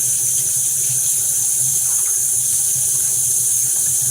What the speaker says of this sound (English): I'm about to rinse my green onions once I cut the top of it off.